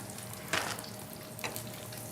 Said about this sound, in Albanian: Unë po i skuqe edhe pak.